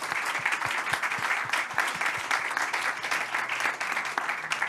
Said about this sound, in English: So one more round of applause to the FAO and the three winners.